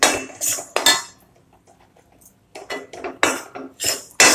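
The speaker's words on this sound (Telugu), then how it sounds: "ఇప్పుడు కలుపుకుందాం నెయ్యిలో బాగా" Kada prasad halwa stirred in ghee in a pan, with a metal spoon scraping and clinking against the pan in several close, loud bursts separated by short pauses.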